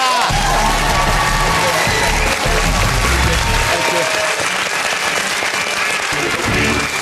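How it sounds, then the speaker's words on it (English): A studio audience at a televised comedy quiz show, The Big Fat Quiz of the Year 2007, breaks into loud, sustained applause with some cheering and whoops, steady and close for the whole stretch. "Give him a round of applause."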